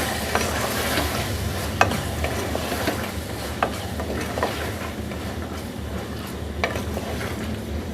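Green peas are stirred and fried in a pan, making a steady close sizzle. Occasional scrapes and taps of the spoon against the pan rise above it, with no voices.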